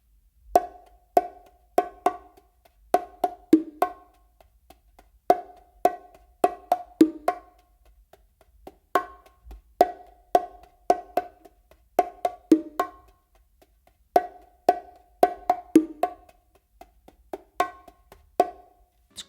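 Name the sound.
bongos played slowly: Brazilia pattern with ghost notes and accents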